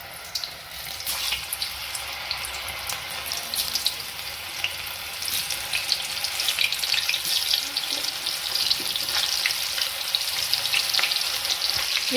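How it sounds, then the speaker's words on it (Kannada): Coated mushroom pieces frying in hot oil for a crispy pepper dry, a steady close sizzle with scattered crackles and pops that grows slightly busier as more pieces go in, no talking. "ಎಣ್ಣೆ ಕಾಯ್ದಿದೆ, ಈಗ ಒಂದೊಂದೇ ಬಿಡೋಣ ಬನ್ನಿ."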